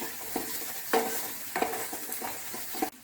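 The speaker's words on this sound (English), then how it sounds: "keep stirring it till it becomes pretty brownish" Masala frying in a pan for chana dal paratha, stirred in several distinct scraping strokes over a soft steady sizzle, near and quiet, with no talking.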